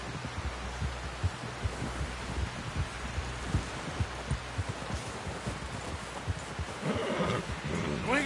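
A horse in Red Dead Redemption 2 whinnies near the end amid hoof clip-clops and low thumping, with someone shouting urgently through the scene.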